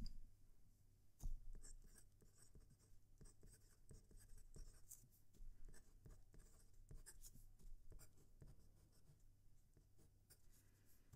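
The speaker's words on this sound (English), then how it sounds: "I'm going to now move the mic so it's closer to the paper so you can hear the writing" A PenBBS fountain pen scratches across 80 GSM copy paper with a close microphone, giving soft continuous scraping strokes with small ticks and pauses, quiet and alone.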